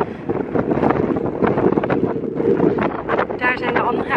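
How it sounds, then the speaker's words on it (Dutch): Strong wind buffets the microphone on a mountain top on Madeira, a loud, gusty roar throughout with someone speaking over it. "want het waait zo hard."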